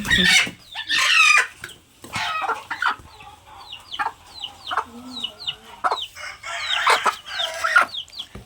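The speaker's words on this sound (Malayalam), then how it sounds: "തള്ളിയും കുഞ്ഞും കൂടെയാണ് കേട്ടോ വിടുന്നത്" A mother hen and her chicks shut in a delivery box give repeated clucks and sharp high peeps, in close, irregular bursts throughout.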